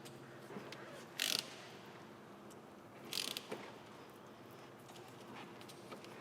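A motorcycle chain breaker and riveter tool being turned by hand, giving quiet clicking and ratcheting mechanical sounds with two brief louder bursts of metallic clatter over a low, steady background.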